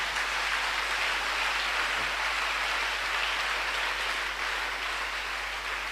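A church congregation claps in sustained applause to acclaim the Lord, a dense, steady wash of hands that stays loud and unbroken for several seconds with no voices standing out.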